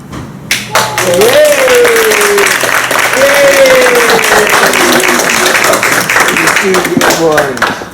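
Audience applause at a screenplay competition awards ceremony, steady and dense clapping filling the room for several seconds while a voice speaks over it.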